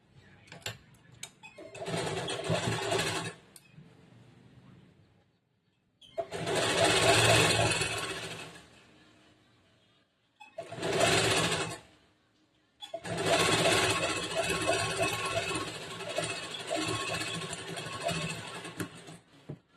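A sewing machine stitches blouse fabric in several bursts of rapid, even whirring, each run a few seconds long with quiet pauses between, close and clear.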